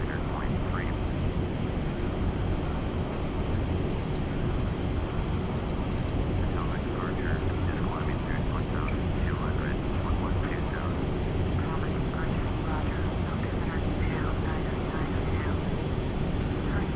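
A North American XB-70 jet in flight, simulated in FSX, sounds as a constant, loud, broadband engine roar that stays steady throughout with no break.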